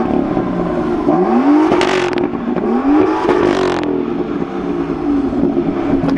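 A BMW M2 engine revs hard twice in quick succession, each rise climbing to a snarling peak and falling back to a loud idle, close and without any voices.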